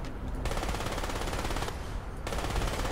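Rapid automatic gunfire from the video game Crysis rattles loudly and continuously for about three seconds, with only a brief dip in intensity near the middle.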